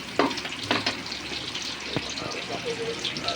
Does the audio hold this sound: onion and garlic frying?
yes